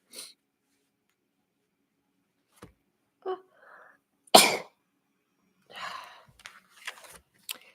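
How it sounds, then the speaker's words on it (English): A single sharp sneeze bursts out close up amid an otherwise quiet room, with a few small sniffs, breaths and rustles around it. "I sneezed"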